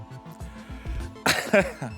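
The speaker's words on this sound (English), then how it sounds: "I have to cough." A single person coughs close to the microphone, a short harsh burst near the end of a quiet stretch.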